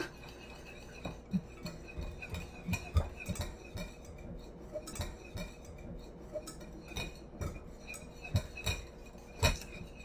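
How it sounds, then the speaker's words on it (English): A whisk beating a sauce and marinade of ginger beef noodle ingredients in a bowl: quick, light, irregular clinks and taps of metal on the bowl, close and fairly quiet, with no talking. "now I'm just gonna whisk this all up"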